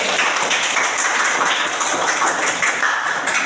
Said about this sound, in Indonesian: Tepuk tangan untuk kelompok 1 dan 2.